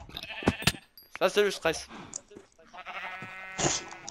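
Sheep bleating in Minecraft during a hunting session in the game, with a short wavering bleat heard between bursts of French speech from a player.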